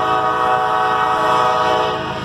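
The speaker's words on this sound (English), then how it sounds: "Oh, it's a freight train. Solo engine. Solo CSX engine." A loud, sustained train horn blares over the steady rumble of a single CSX locomotive pulling an eastbound freight train past a road crossing, close by and continuous throughout.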